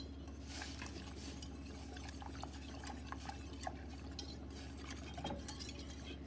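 Whisk stirring soy milk, nutritional yeast, miso and tahini in a pot, a faint steady scraping and light clinking against the metal with soft liquid swishing.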